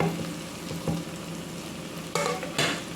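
Spaghetti sauce with ketchup and carrots stirred in a pan, a soft continuous sizzle broken by a few scraping spoon strokes and two sharper bursts of stirring near the end.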